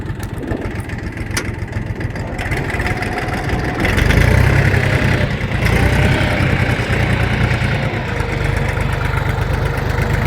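A Kentavr 244SX Chinese mini tractor engine runs in fourth gear during a break-in test, a loud, steady, close mechanical drone with a knocking low rumble and a brief rise in intensity midway.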